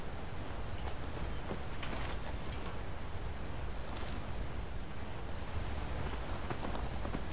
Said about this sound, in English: you run into your horse walking away